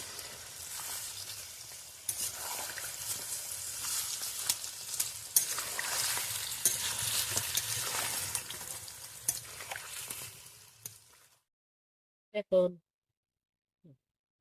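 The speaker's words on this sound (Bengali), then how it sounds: "এই যে দেখুন আমটা আঠিটা সুন্দরভাবে ভাজা হয়ে গেছে" Raw mango seeds and pieces frying in a pan, a loud continuous sizzle with stirring scrapes for about eleven seconds, then near silence with a few brief sounds.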